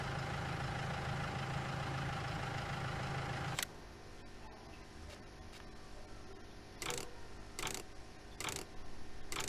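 A small tractor engine idles in the Fairview Simulations farming game, a steady low hum, louder at first and then quieter, with a few short bursts of broadband noise later on and no talking.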